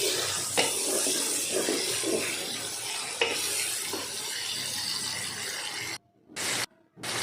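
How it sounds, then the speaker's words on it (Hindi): A spoon stirring onion, garlic, ginger and chopped tomatoes in a pan, soft sizzling with scraping and clinking strokes, moderately loud and close, ending in brief gaps of silence. "फिर चम्मच को हिलाएंगे।"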